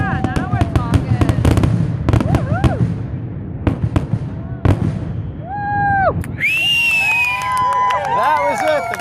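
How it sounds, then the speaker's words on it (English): A 4th of July grand finale fireworks display at a lakeside dock in Lake Worth, Montana, with loud, continuous rapid booms, crackles and rising whistles, and a crowd's voices and shouts underneath. "The grand finale of the fireworks here at Lake Worth, Montana."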